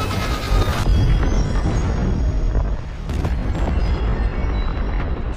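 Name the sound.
explosion collapsing the place in Sonic film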